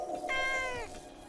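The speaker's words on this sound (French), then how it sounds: "Allez, petit chat, n'aie pas peur." Cartoon cat stuck up high gives a single drawn-out, wavering meow, close and fairly loud over a faint background hum, alone without any talk.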